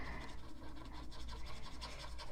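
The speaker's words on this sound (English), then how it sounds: "I love that noise the markers makes when we're coloring." Alcohol markers scratch and rub across paper while someone colors a Christmas card, a soft, continuous close-up scraping with faint repeated strokes and no talking.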